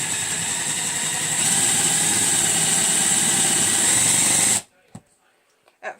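Power drill boring a hole into a wooden Yule log, a steady whining motor drone that runs for several seconds at close range before cutting off, followed by a few faint knocks.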